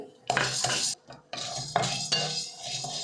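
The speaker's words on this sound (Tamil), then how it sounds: "எல்லாத்தையும் ஒன்று ஒன்றா போட்டு நல்லா வறுக்க போகிறோம் ஒரு ரெண்டு நிமிஷம் நல்லா வறுக்கணும் முதல்ல கடலைப்பருப்பு" Chana dal is stirred and dry-roasted in a pan for pirandai powder, with repeated close scraping and rattling of a spoon against the metal as the lentils shift, all without any talking.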